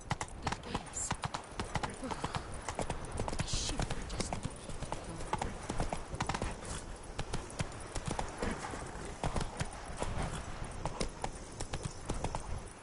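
Geralt's horse Roach gallops in The Witcher 3: Blood and Wine, hooves clip-clopping in a steady, driving rhythm that runs unbroken and close throughout.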